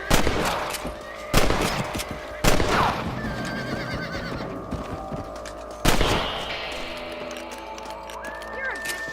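Sharp rifle shots at rabbits in the Western game Red Dead Redemption, several loud separate cracks spaced seconds apart, with horses whinnying and snorting nearby between them.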